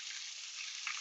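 Peppers and onions sizzling in a 14-inch cast iron pan on a Big Green Egg grill, a steady dense hiss with a slight crackle near the end, close and even.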